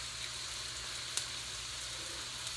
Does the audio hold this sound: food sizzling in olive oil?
yes